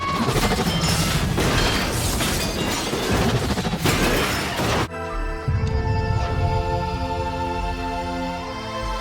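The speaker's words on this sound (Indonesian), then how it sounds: "Merrick akhirnya terbunuh oleh Lincoln dengan diikuti ledakan." A loud, rumbling film explosion with crashing debris, then a sustained droning tone takes over as the roar subsides.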